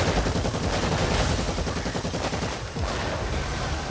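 Rapid gunfire in Warhammer 40k Eternal Crusade during a PVE lair mission, dense overlapping shots that run loud and continuous for the whole stretch with a brief dip near the end.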